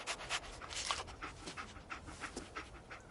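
Dogmeat, the dog companion in the video game Fallout 4, panting in quick rhythmic breaths, quiet and close, with no talking.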